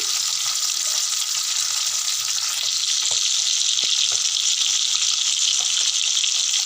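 Parshe fish frying in hot oil in a pan, a steady loud bright sizzle running throughout with a few faint clicks of utensils, no voices.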